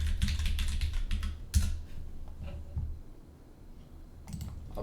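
Fingers type a password on a computer keyboard in a quick run of clicky keystrokes, then slower scattered taps and a brief pause before a final short burst.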